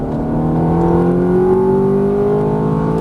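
Ferrari F430 engine pulling hard on a racetrack, a loud close-up rising rev with layered harmonic tones climbing steadily as the throttle opens.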